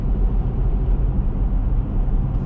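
Car cruising on a snowy highway between Ontario and Quebec in gusting snow, a loud continuous low road and engine roar heard from inside with steady wind-like rumble and no talk.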